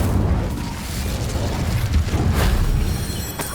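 Incendio fire spell cast in Hogwarts Legacy, a rumbling burst of flame with low booming crackle that holds steady throughout, with a brighter flare near the end.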